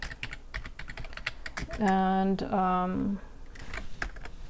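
Computer keyboard typing a search into an image search box, quick clicky keystrokes scattered throughout, with a brief spoken word and a short tonal sound midway.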